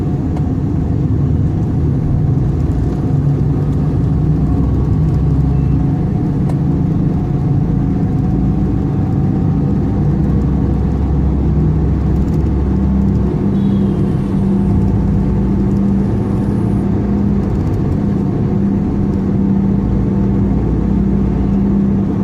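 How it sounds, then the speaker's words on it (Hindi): A car driving through dense Lahore traffic at night, passing close to a road divider; a steady, loud low engine and road rumble continues throughout with no talking. "डिवाइडर के किस कदर करीब से गुजरी है गाड़ी।"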